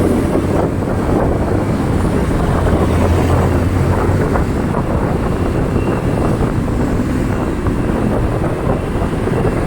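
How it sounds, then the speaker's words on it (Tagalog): Steady, loud wind roar buffets the microphone while riding a motorcycle with a very loose chain along a wide two-way road, with a low engine drone underneath and no talking. "Alanganin tayo magpabilis ng ating motor."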